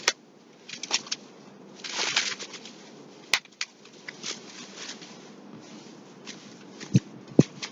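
Shredded paper is laid by hand into a worm bin, giving a close, irregular rustling and crinkling with a few sharper taps and rattles.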